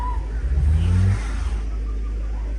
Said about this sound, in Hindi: ये हमारी गाड़ी फंस चुकी है बर्फ में और अभी निकलेगी ये